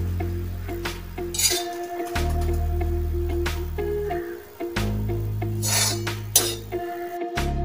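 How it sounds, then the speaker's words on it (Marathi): Grated coconut is dry-roasted in a pan and stirred, giving close scraping and rustling with sharp metallic clinks of the utensil against the pan. A low hum comes and goes underneath, and there is no talk. "खोबरं लालसर होईपर्यंत आपल्याला व्यवस्थित भाजून घ्यायचं आहे, करपवायचं नाहीये।"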